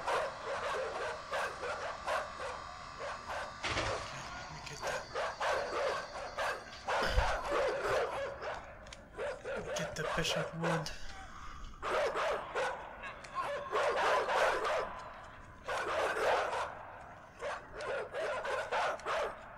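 Repeated barking and yipping from dogs in the game Inside comes in clustered bursts with short pauses, fairly loud, alongside occasional male speech.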